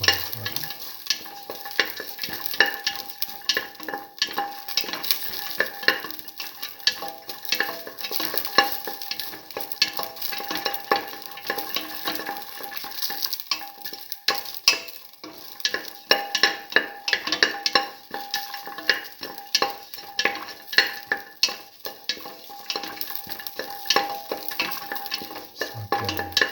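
Garlic and shallots sautéing in a pan while being stirred continuously, a dense sizzle broken by frequent scraping and clinking strokes of the spatula throughout a long stretch, close and fairly loud, no voices.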